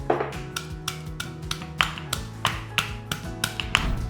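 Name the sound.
crushing garlic cloves with skin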